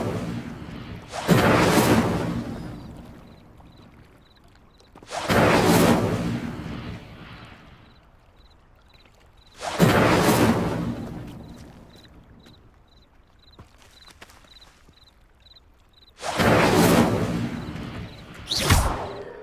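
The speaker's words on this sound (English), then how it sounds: "Incendio! The flames make the pyre sink." Incendio fire spell cast on pyres in the video game Hogwarts Legacy: four loud whooshing fire bursts spaced a few seconds apart, each with a rushing roar that fades, over a faint repeating chime.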